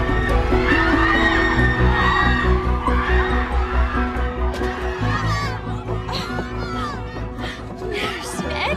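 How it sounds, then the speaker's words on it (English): A dense crowd of fans mobbing ABBA's car and security on the road from the airport, a loud continuous roar of shouting, cheering and excited voices, with children's shrieks and laughter rising above the din throughout. "On the trip from the airport, crowds overwhelmed ABBA's security."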